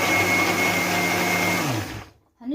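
A blender grinding a sesame mixture for tahini, a loud steady motor whine that winds down and stops near the end, followed by a brief click.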